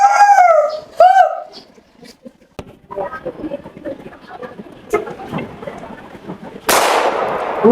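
A person in a school stage adaptation imitates a dog, giving two howling, whining barks, followed by quieter shuffling sounds and a sudden loud burst at the end.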